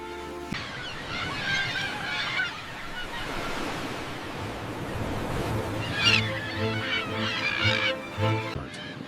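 Brant geese give repeated nasal honks from rugged coastal cliffs over a steady wash of surf, calls clustering in bursts near and mid-distance against the constant roar of waves.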